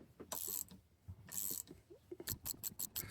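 A ratchet loosens a bolt on the brake and clutch hydraulics of a 1961 Triumph TR3A, with quick bursts of clicking and metallic tool sounds, fairly faint and close, with no talking.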